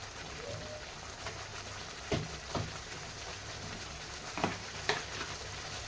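Masala for a jackfruit curry fries in oil with a soft, steady sizzle, quiet and close, broken by a few light scrapes and stirs of a spoon against the pan.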